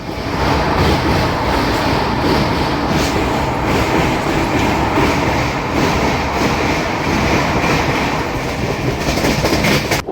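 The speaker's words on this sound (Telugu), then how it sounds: "మన ట్రైన్ ఫుల్ వ్యూ, గాలి సౌండ్ వచ్చేస్తుంది మీకు" Amrit Bharat 2.0 Express passenger train running at speed, a loud continuous rumble of wheels and carriages with steady rushing wind noise throughout, no talking.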